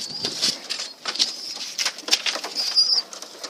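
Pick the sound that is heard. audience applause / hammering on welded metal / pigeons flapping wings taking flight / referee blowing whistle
pigeons flapping wings taking flight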